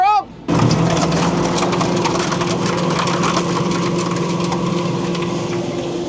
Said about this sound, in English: put my tractor full throttle, it needs to be full throttle, and I'm gonna engage my PTO to clear out the fan